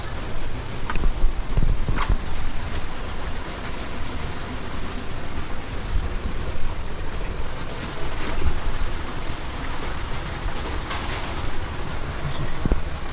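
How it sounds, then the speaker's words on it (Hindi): Waterfall water rushes near Turtuk Palace in Ladakh, a dense, constant roar of flowing water with no talk. "जो आवाज़ आप लोग सुन रहे हो ये झरने का पानी का आवाज़ है"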